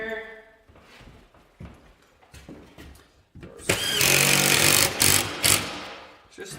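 A power drill drives a couple of screws into a small sheetrock patch, bursting in loud and close after a few quieter knocks and handling sounds, with a brief voice early on.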